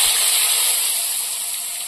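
Potatoes fry in hot oil with bay leaf and whole cumin, giving a loud, close, continuous hissing sizzle that stays even throughout.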